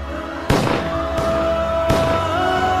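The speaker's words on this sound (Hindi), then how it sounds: "कार सेवकों पर गोलियां चली।" Three sharp gunshots ring out, evenly spaced, against a steady musical drone, each a loud crack that decays quickly, as shots are fired at kar sevaks in a dramatized film scene.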